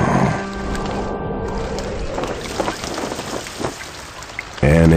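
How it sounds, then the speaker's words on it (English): Steady rain patters and hisses on a surface in the 2001 PC game Winnie the Pooh Baby, close and continuous, with scattered droplet splashes and a brief tonal sound at the end. "Rain."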